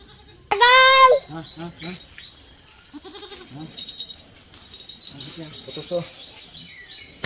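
Goats being fed jackfruit on a farm in Khagrachari let out a loud, close bleat, followed by several shorter bleats, with people talking and faint bird chirps in the background.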